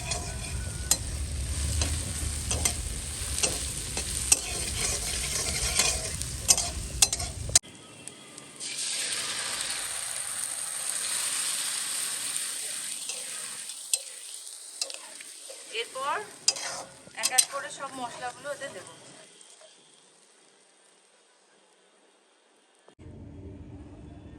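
Onion fries in a pan for a spiced chicken dish cooked outdoors on a rooftop in winter, a loud close sizzle with stirring clatter that gives way to quieter crackling and hissing bursts before fading almost to silence.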